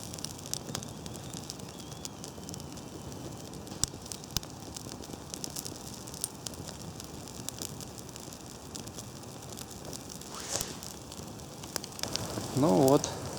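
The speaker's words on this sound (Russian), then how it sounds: "Веточки шипят, поскольку" Wigwam-style campfire of small twigs burning in a winter forest, giving a steady soft hiss with scattered faint crackles and a few sharper pops near the end.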